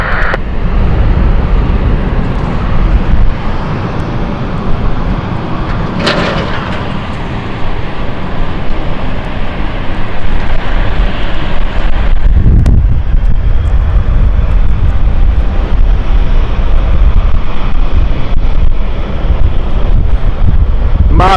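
German Airways airliner operated for ITA on the flight from Milan arriving at London City Airport, a loud sustained engine roar that surges sharply around the middle and stays heavy, mixed with wind noise on the microphone.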